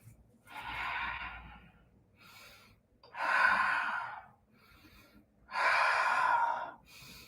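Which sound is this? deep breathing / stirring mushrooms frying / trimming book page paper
deep breathing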